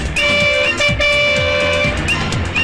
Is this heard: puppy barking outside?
no